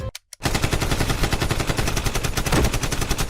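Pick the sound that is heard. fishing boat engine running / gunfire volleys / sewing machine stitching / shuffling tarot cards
gunfire volleys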